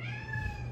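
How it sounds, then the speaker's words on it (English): A domestic cat meows close by, one drawn-out harmonic call across most of the moment, heard over quiet room tone during an energizing vinyasa yoga class. "that was my cat"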